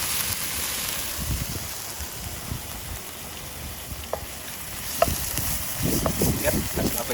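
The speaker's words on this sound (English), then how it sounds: "so we'll let that saute for a bit" Food sautéing in a pan at an outdoor lakeside catch-and-cook, a steady broadband sizzle with faint stirring scrapes and a few small clinks, fairly close and continuous.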